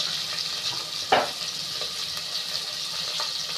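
Onion sautéing with a sprinkle of salt in a pan for mutton kulambu: a close, even sizzle throughout, with a brief louder scrape of stirring near the middle, no voices.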